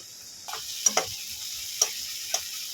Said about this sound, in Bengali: টমেটো আর পেঁয়াজটাকে ভালো করে একটু মশলার সঙ্গে ভাজা ভাজা করে নিয়েছি